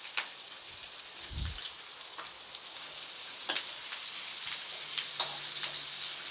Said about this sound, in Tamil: இந்த மாதிரி வதக்குங்க, கொஞ்சம் நேரம் வதங்கட்டும்